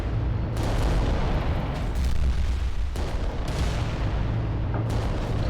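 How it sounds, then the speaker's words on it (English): Volcano Cannon fire from a Titan in the Adeptus Titanicus game, a dense, continuous wall of low booming rumble with a few sharper bursts, loud and sustained throughout. "If I get lucky with my Volcano Cannon shots"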